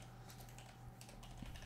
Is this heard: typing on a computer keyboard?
yes